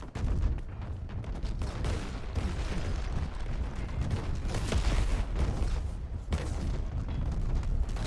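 Explosions and bursts of gunfire from the video game Crackdown 3, with buildings being destroyed in a wrecking zone; dense, continuous rumbling blasts and cracks play loud and close for the whole stretch with no talk.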